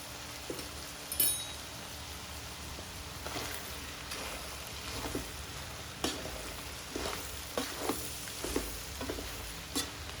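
Oil frying with salt and turmeric in a pan for a boti gojju, a steady soft sizzle with scattered crackles and pops throughout.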